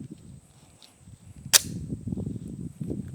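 A single sharp handgun shot from a personal concealed-carry pistol fired at a target, crisp and close, standing alone over low background murmur and outdoor ambience.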